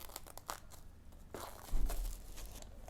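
Packaging torn and crinkled while unboxing a Dune 4K Blu-ray steelbook, French edition: scattered close crackles and rustles, then a louder tearing, crunching burst toward the end, with no talking.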